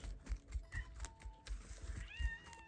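A cat outside the door meows a few times to be let in, with a rising, fairly faint call near the end among soft tapping and low thumping household noises.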